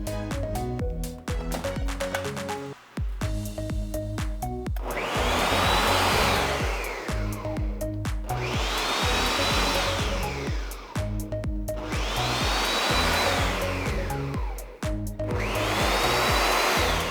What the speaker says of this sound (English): We're gonna get that all blended together.